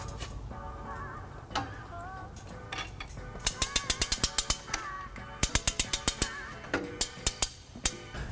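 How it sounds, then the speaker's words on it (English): A trailer hitch jack is cranked to lift the hitch on a 2019 Kia Niro, giving rapid metallic ratcheting clicks in bursts, close and fairly loud against a low background hum. "So today I'm going to be using U-Haul's exclusive hitch jack."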